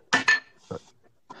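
A few sharp clinks of dishes and cutlery: two quick knocks together, a pause, then another clink and a softer one, close and isolated.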